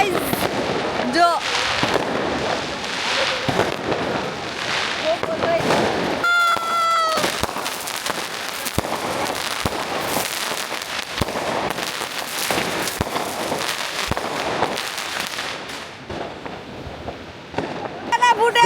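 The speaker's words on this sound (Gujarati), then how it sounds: "અમે અહીંયા હવે ફટાકડા ફોડીએ" Diwali firecrackers burst in a garden in London, a run of sharp cracks and pops, some close and loud, with a crackling cluster midway and people talking and cheering throughout.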